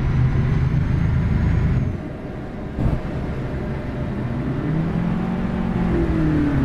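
Steady engine drone from a truck in American Truck Simulator, a loud, continuous low rumble with a slight dip partway through and a rising tone near the end, with no talking over it.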